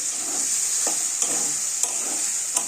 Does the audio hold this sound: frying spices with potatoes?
yes